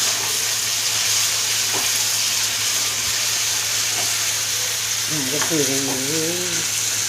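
Chopped lemon for lemon pickle sizzles and fries steadily in a pan, a constant close hiss with a brief voice murmuring near the end.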